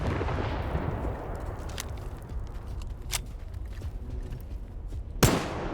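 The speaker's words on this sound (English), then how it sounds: "Oh, grenade!" Gunfire and a grenade blast in a combat video game, with a few sharp isolated shots scattered over a low rumbling bed and a louder crack near the end.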